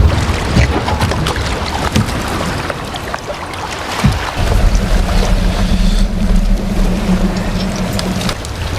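A boat on open water in a scene from the TV series Ripley gives off a steady, close wash of wind and water noise. A low engine hum settles in underneath partway through, and nobody speaks.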